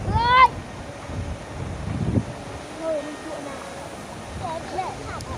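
Gusty wind buffets a microphone outdoors at a village wedding procession, rumbling in low bursts alongside faint bird-like chirps and distant voices.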